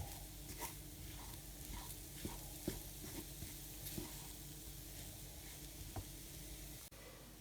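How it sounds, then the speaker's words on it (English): Roughly chopped samosa filling stirred together in a bowl, a steady soft scraping and mixing with a few sharper clicks of the spoon against the side, close and alone. "So we mix this all together."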